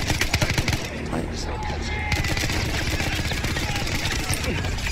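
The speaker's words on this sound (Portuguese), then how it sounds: "o Zeppelin mesmo que tava atirando" Rapid bursts of gunfire from a zeppelin in the Battlefield 1 campaign, dense and loud with continuous booming and rattling shots, while a player speaks over the din.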